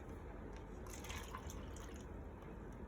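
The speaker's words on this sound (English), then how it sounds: "And I'm going to add in my water." Water trickles and drips into a cup while rainbow lemonade is being layered, a soft, faint pouring sound over low background noise.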